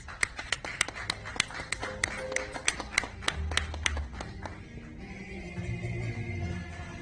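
An audience at a live Latino music stream claps for a guest, giving sharp, distinct individual claps at first that thin out into quieter scattered sound, with a faint voice in the background.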